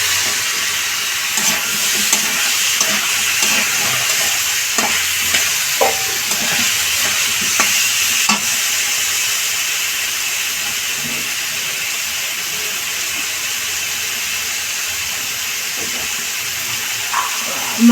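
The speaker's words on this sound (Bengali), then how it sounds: "এবার ঝিঙেগুলো দিয়ে দেবো।" Ridge gourd pieces tipped into a hot pan for navratan dal set off a loud, steady sizzle and hiss of frying, with a few faint clinks and stirring knocks scattered through.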